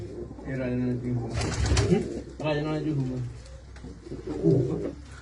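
Pigeons coo in soft, throaty bursts close by, several calls spread across a few seconds with some background noise.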